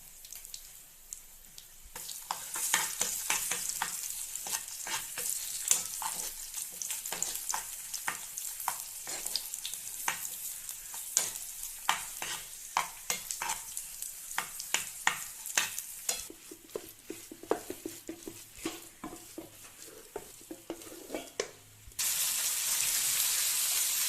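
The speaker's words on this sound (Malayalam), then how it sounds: "തവയിൽ നമ്മൾ നെയ്യൊഴിച്ച് അതിലേക്ക് കൊട്ടുക. അത് നന്നായി മാഷ് ചെയ്തെടുക്കുക." A cooked rice and toor dal mixture for jaggery pongal is mashed in ghee on a tawa, making steady close sizzling with rapid repeated scraping and pressing strokes of a utensil, with no talk.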